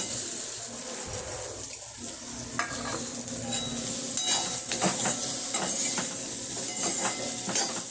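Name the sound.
coconut being dry-roasted in a pan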